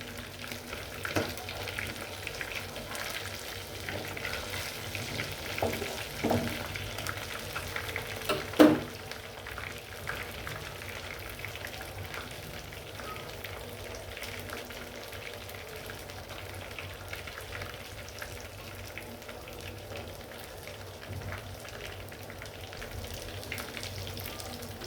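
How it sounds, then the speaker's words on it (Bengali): Chicken balls fry in oil over low heat with a steady, quiet crackling sizzle, broken early on by a few light utensil knocks and one sharper clatter, then settling into an even hiss. "অল্প অল্প জালে ভাজতে হবে, ভিতরে যেন কাঁচা না থাকে"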